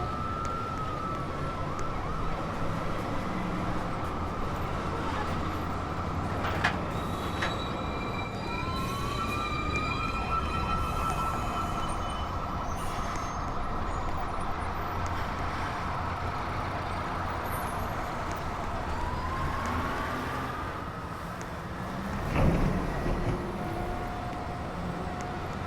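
A downtown local 1 subway train pulls into a New York station with a long rising and falling metallic wheel squeal over a steady rumble, a horn-like tone sounding briefly near the end.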